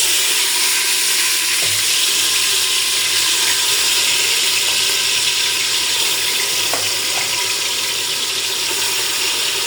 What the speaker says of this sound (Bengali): এখানে আমার অলরেডি তেলটা গরম হয়ে গেছে। ওখানে আমি মাংসটা ম্যারিনেট করা মাংসটা দিয়ে দিব।